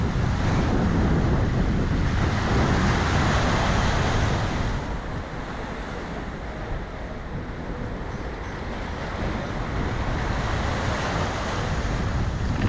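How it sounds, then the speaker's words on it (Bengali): Black Sea surf rolls onto the shore at Constanta, Romania, a loud continuous roar of breaking waves and foam mixed with wind buffeting the microphone, with no voices. "আছড়ে পড়ছে অবাধ্য ঢেউ, তৈরি করছে সাদা শুভ্র ফেনা"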